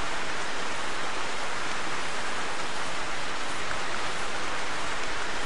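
Steady, dense rain pours down in a hunting video game's outdoor setting, a continuous broadband hiss of drops on surfaces with no voices and no break over several seconds.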